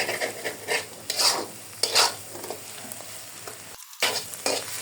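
Egg frying in oil in a pan while being stirred, with a steady sizzle broken by several sharp scraping stirs of the spatula, close and fairly loud with no voices.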